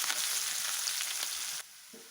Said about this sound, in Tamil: கடுகு பொரிஞ்சதுக்கப்புறமேலு வெங்காயம் கருவேப்பிலை வத்தல் மிளகாய் இதை போட்டு நல்லா வணக்கணும்